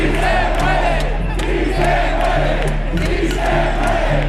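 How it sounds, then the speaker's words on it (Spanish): Crowd at a 15M protest in Spain clapping and shouting in unison from both sides of a police cordon, a dense roar with rhythmic chanted bursts repeating about every second and a half, loud and continuous. "Aplausos de uno y otro lado del cordón y estalla un grito."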